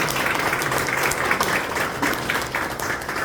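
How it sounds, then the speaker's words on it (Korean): Audience applause fills a church press conference launching a large Korean church joint worship service, a steady, dense wash of clapping held at even volume for the whole stretch. "우리 이 출범 기자회견을 위해 큰 박수 부탁드리겠습니다"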